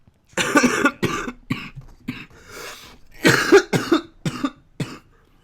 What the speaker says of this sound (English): I'm not gonna edit that cough out so you guys can hear what that cough sounds like